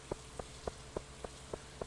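Cold autumn rain falls steadily in Stardew Valley as a soft, even hiss. Regular light taps come about every quarter second over it, all fairly quiet and with no voices.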